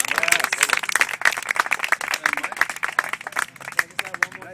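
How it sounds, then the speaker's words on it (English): A round of applause from people gathered at an Occupy Las Cruces general assembly meeting, dense, sustained clapping from a modest crowd lasting several seconds, moderately near. "Can I just ask for a round of applause for him coming?"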